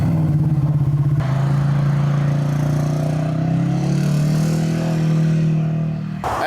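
A turbocharged Ford Expedition convertible with a new clutch drives on its first test run, its engine giving a loud, close droning roar that starts with a pulsing idle, rises in pitch as it revs and pulls, then cuts off.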